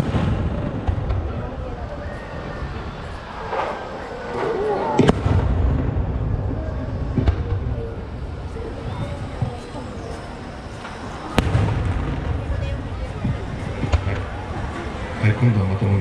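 Fireworks display at Nagashima Onsen resort in Japan, with repeated booming bursts and crackling at varied intervals, some loud sharp reports standing out over a steady rumbling background and crowd noise.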